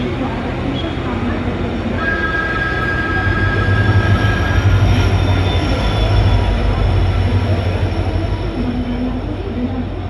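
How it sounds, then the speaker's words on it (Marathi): Tutari Express train pulling out of Dadar station, a steady loud rumble of wheels and carriages with a brief squeal, rising slightly in the middle, while voices murmur faintly underneath. "दादरवरून ट्रेन सुटल्याने आता आम्ही निघालो आहे."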